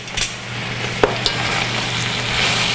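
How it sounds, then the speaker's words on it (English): Greens being stirred and sautéed in a pot, a steady loud sizzle with a few scraping stirs and light clinks near the start. "mix the greens around until they're all sauteed"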